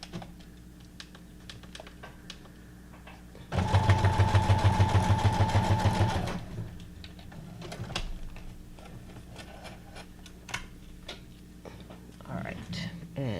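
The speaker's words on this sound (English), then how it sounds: "I'm just going to do a little zigzag stitch" A sewing machine zigzag-stitches a small bear shape onto a Christmas tag, a close, rapid mechanical whirr lasting about three seconds amid quiet tapping and handling sounds.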